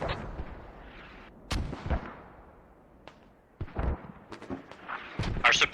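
Mortar fire in a tactical shooter game, heard as several sharp distant booms and thuds scattered across a few seconds, some close together, over a low rumbling background.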